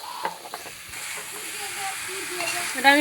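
Chickpeas and tarka tipped into spices frying in a pan give a steady, moderate sizzle and hiss that builds slightly, with a few faint knocks of stirring.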